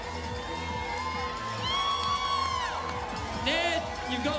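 Spectators cheer runners crossing the finish line at the Gold Coast Marathon: a steady crowd roar with whoops and shouts that swells partway through, while an announcer talks over it on a public address system.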